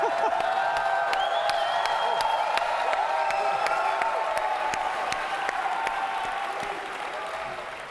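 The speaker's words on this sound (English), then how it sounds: "They're just going to keep cheering" A large crowd cheers and applauds continuously at the Dota 2 International final, a dense, loud roar of clapping and whoops that stays near and slowly eases toward the end.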